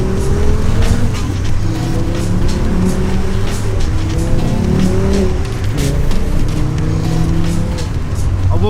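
A 2.3L VR5 Mk2 Golf GTI engine revs hard and shifts through gears, loud and close, with rising and falling pitch and occasional tire noise.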